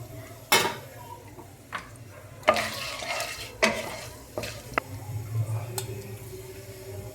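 Whole spices for biryani, including cardamom, bay leaf and black pepper, fry in oil with a low sizzle while a spoon scrapes and clinks against the pot in several sharp knocks, close up.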